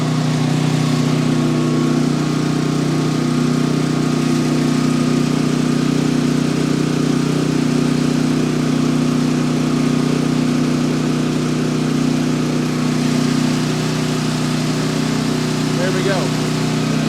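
A Pulsar G12KBN 12000-watt generator runs at a steady loud drone, its engine humming continuously and close without change.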